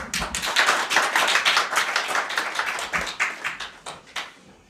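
An audience at a political party gathering claps in a brisk, even rhythm, the sharp claps near and distinct before tapering off toward the end.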